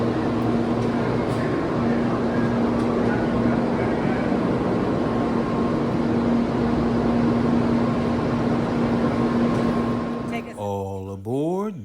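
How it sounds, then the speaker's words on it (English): Shinkansen bullet train running from Tokyo to Osaka, a loud, steady cabin rumble with a constant hum that lasts about ten seconds before a voice starts talking over the end. "All aboard the Shinkansen bullet train to Osaka"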